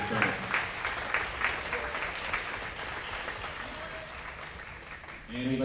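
Crowd at a Catholic high school boys' basketball game applauding the St. Thomas Aquinas team for finishing fifth, a dense, steady clapping that fills the hall, with voices briefly audible at the start and end.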